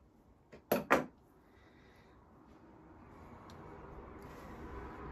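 Scissors cut sweatshirt fabric in a few quick snips up close, then a quiet room hush follows.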